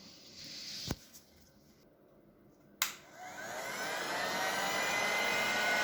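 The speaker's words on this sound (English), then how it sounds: "Now I'm just going to dry this one off with my heat gun" After two sharp clicks, a heat gun switches on and blows a rising, steady whooshing roar while drying a decoupage napkin on a slate coaster, growing louder and holding near the end.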